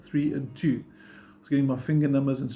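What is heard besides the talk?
No distinct noise like a dog, phone or traffic.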